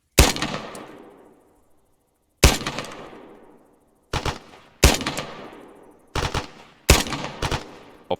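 A machine gun fires in a video game infantry training session. Six sharp, loud bursts each ring out and decay, with uneven gaps between them.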